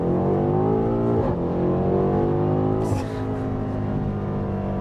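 A BMW M8 Competition accelerates hard, its engine note climbing and falling through gear changes, loud and close from inside or near the car, with no talking.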